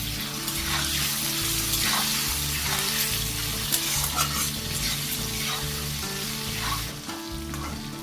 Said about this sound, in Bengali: আলুগুলো ভাজা হতে থাক।